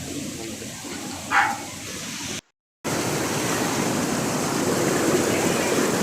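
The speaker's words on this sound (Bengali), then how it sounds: "জলের এত সাউন্ড" River water rushing at a confluence of three rivers near a Guwahati temple: a steady, close broadband roar that drops out briefly, then returns just as strong.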